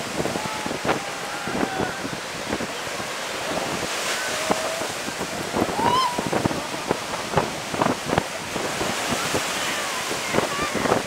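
Ocean waves wash in at the water line on a beach in Cancun, a steady surf with heavy wind buffeting the microphone and scattered voices of a crowd in the background.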